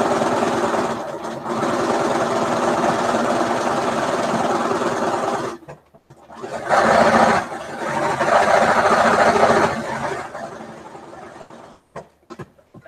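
A sewing machine stitches two quilting seams, running in a steady loud whirring burst, stopping briefly, then running again for a second seam before trailing off into a few light clicks.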